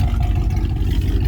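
A loud 1997 Dodge Ram 1500 pickup with a 5.9L engine idles, a deep, steady, close rumble heard alone for a brief moment.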